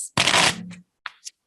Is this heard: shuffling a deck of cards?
yes